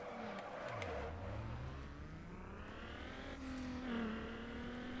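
A Subaru drifting in the racing game Need for Speed Underground: engine note rises and swoops as the car slides, with tire squeal and a steady, loud revving drone throughout, no speech.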